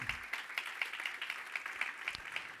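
Congregation clapping in a church, a steady, even patter of many hands at moderate volume with no voices over it.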